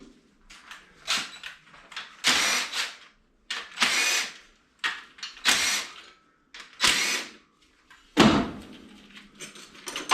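A half-inch power tool works on carburetor parts being removed from a motor, giving repeated short bursts of whirring and ratcheting, around nine separate spurts with brief pauses between, close and fairly loud.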